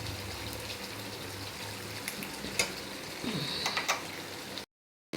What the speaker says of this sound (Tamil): இது மாதிரி கொஞ்சம் கைவிடாமல் கொஞ்சம் அப்படியே கிண்டிக்கிட்டே இருங்க.